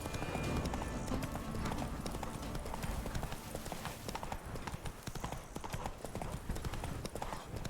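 The horse galloping in The Witcher 3 video game, a fast steady clip-clop of hooves close up and loud, running continuously with game ambience behind it.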